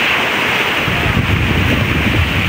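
Strong wind roars against the microphone at a beach resort while ocean surf rushes steadily underneath, a constant close hiss and rumble with no break.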